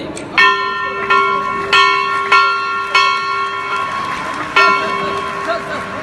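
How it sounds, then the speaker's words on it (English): A ceremonial bell is struck by the Chief Minister of Madhya Pradesh at a civic event in Indore, six clear metallic strikes with long ringing tones at an uneven pace, over crowd noise and voices. "the bell is being rung by the Honorable Chief Minister of Madhya Pradesh, Shri Shivraj Singh Chauhan ji."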